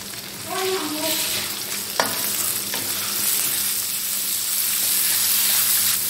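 Small shrimp frying in a pan, with a steady sizzle and stirring scrapes throughout; a sharp clink of the utensil sounds near the start, and there is no talk.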